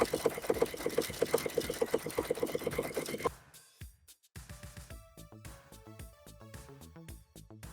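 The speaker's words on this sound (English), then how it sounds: "let's sew a seam together and see if it works and holds up" A sewing machine sews a seam using vintage thread, whirring in a fast rhythmic patter for a few seconds before slowing into separate clicking and tapping sounds, close and clear.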